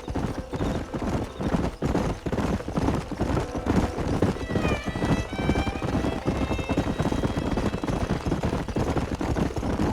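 Horses galloping in the Red Dead Redemption video game, a steady fast clip-clop of hooves with a brief whinny, dense and continuous over a busy game soundscape.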